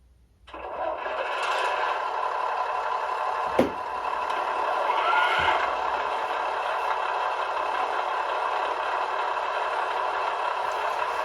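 An O gauge model train engine, a German Schienenbus railbus, hums steadily on a layout, close and even, with a sharp click and a light knock early on.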